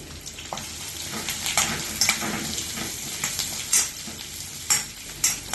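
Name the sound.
sautéing onion, ginger, green chili and curry leaves in pan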